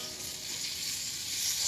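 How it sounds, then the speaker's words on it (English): Meat sizzles in hot oil in a flame-proof casserole, a soft, steady hiss that grows slightly louder toward the end, with no talking over it. "Then just put the meat in, wait for the sizzle"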